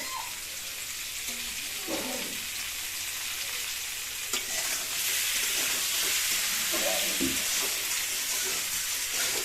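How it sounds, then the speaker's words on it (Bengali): New potatoes fry in a pan for kosha aloo dum, giving a steady sizzling hiss that swells slightly in the second half, with faint scrapes and clinks of stirring and no voices. "আমরা এখন আলুটা খুব সুন্দর করে এখানে কষিয়ে নেব বা ভেজে নেব ভালো করে ভেজে নেব"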